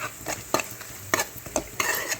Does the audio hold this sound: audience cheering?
no